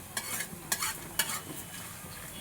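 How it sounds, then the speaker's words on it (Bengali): Coriander seeds and black pepper stirred and dry-fried in a pan for homemade chole masala, giving a steady scraping rustle with a few sharper spatula scrapes, close and moderately loud, no voices. "আমরা একটু এটাকে নেড়ে নেবো, ভেজে নেবো একটু।"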